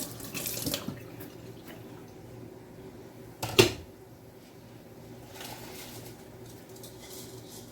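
Tap water running into a sink while food is washed, a faint steady stream with a brief splash near the start and a sharper clatter midway, with birds cooing softly in the background.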